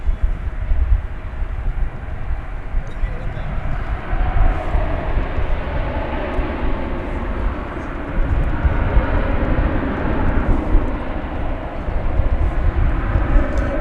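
A Cargolux cargo jet moving at DFW Airport at night, a loud broad steady engine roar that holds for the whole stretch without letting up.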